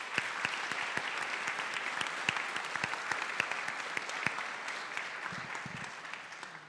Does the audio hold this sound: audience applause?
yes